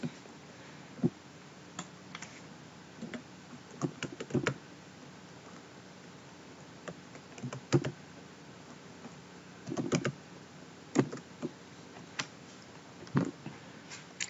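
Commands typed on a computer keyboard into PowerShell to launch a website project, heard as scattered, fairly soft key clicks and short bursts in a quiet room with pauses between keystrokes.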